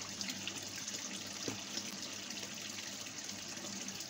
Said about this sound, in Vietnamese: Các bạn thả nước từ từ thôi, tại vì cái này á là mình chăm nước thì càng chậm càng tốt